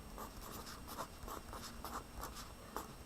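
A pen writes an answer in a maths lesson on a frequency table, making faint, quick scratchy strokes in a steady rhythm in a quiet room.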